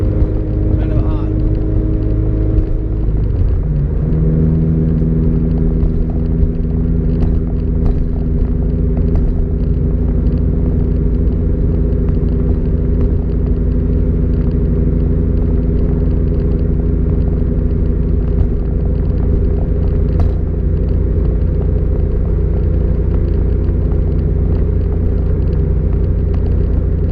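Cabin of a Subaru BRZ cruising in 6th gear at 2500 RPM, a loud, steady low engine rumble and drone with road noise that continues without a break and shifts slightly near the start.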